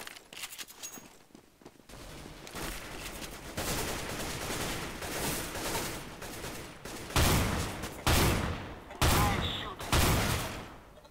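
Gunfire in Counter-Strike: Global Offensive, played offline against bots, with sustained rapid bursts of automatic fire and heavy shots growing louder toward the end, close and continuous.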